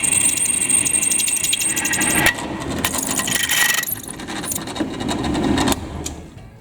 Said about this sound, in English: There I'm going tapping.